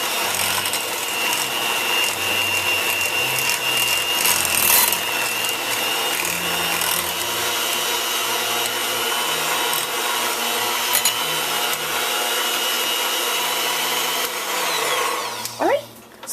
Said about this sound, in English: give it a little bit of a blend